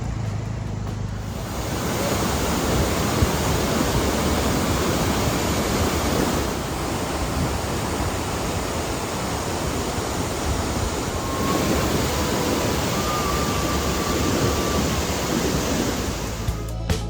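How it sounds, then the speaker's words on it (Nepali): Rupse waterfall roars as a dense, constant rush of falling water, loud and unbroken throughout with no speech. "रूप्से वाटरफल।"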